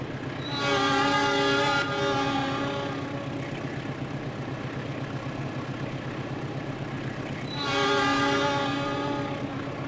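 A simulated diesel locomotive from Trainz Simulator climbs a gradient with a steady, droning engine rumble. Two long, loud horn blasts sound over it, one at the beginning and one near the end. No one speaks.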